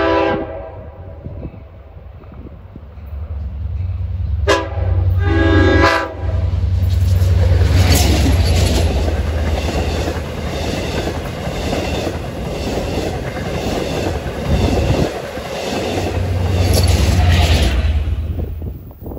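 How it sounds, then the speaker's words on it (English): Long Island Rail Road passenger train 8710, running from Jamaica to Montauk, rolls through a level crossing on a cold, breezy day. Its horn gives long blasts near the start and end, over steady rumbling and clattering wheels, loud and close. "And the gates are going down at 3:35, approaching is 8710 from Jamaica to Montauk."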